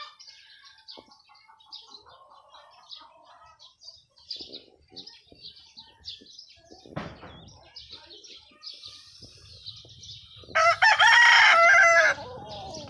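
A fighting rooster crows loudly and close near the end, preceded by scattered clucking and chirping from nearby fowl.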